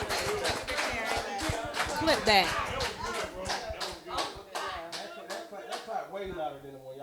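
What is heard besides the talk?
group applauding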